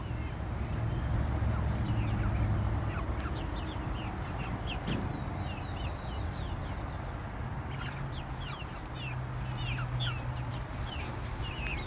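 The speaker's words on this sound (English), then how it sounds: "Because they are quite a bit smaller breed of chickens." Bantam chickens clucking and calling around a yard, with scattered short chirpy notes over a steady low background hum.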